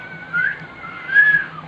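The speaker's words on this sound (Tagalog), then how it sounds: "Ayun, may pito." A whistle sounds twice, in two short rising-and-falling tones with a brief gap between them, fairly loud and close, with no talk over it.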